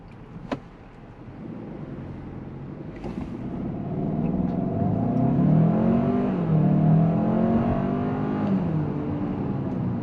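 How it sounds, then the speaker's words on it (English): Hyundai Santa Fe accelerating quickly from inside the cabin, with the engine drone rising in pitch and loudness and a gear change partway through, steady and close, after a brief click. "Now let's try a quick acceleration."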